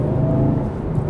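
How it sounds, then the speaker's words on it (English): Supercharger whine from a 2024 Cadillac CT5-V Blackwing engine on a test drive, a loud steady tonal whir blended with engine drone, brief and close, with no voices. "Hear that whine from the supercharger."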